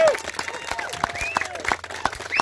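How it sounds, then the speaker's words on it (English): Crowd applause at the dedication of a Dallas pickleball court, a steady patter of clapping of moderate loudness with voices and speech sounds mixed in throughout. "So just let's do a round of applause for Bill."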